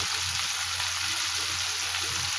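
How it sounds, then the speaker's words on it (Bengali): Steady, dense sizzle of potatoes, shrimp and onion frying in hot oil with chili powder, continuous and close with no pauses. "আলু, চিংড়ি মাছ আর পেঁয়াজ ভালো করে ভেজে নিলাম। এবার একটু লঙ্কা গুঁড়ো দিলাম"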